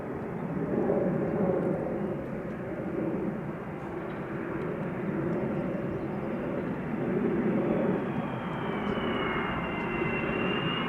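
A Boeing 777-200 or Airbus A330-200 jet airliner arriving from Doha rumbles steadily at an airport, a continuous moderate engine roar with a thin whine gliding downward near the end, heard alone.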